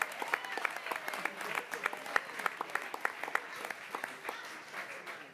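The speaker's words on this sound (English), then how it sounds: "Let's give King a round of applause." Audience applause at a school board of education meeting honoring a student, steady clapping from a room of people sustained throughout with a few louder claps standing out.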